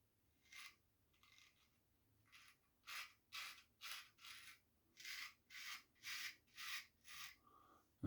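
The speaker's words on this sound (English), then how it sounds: "Let's go against the grain on that side." A German straight razor shaves against the grain, producing a series of about a dozen short, rasping scrapes in an even rhythm, close and fairly quiet, each stroke separated by brief silence.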